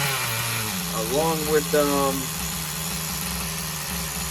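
A nitro RC car engine built from an HPI block and crank with a Tamiya carburetor, Duratrax sleeve, piston and head drones steadily up close, with someone talking over it throughout.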